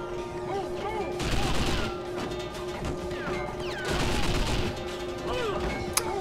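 Gunfire and crashing impacts in 007 Nightfire, repeated shots and smashes layered over a steady game soundtrack, rising in two louder bursts and ending with a sharp crack.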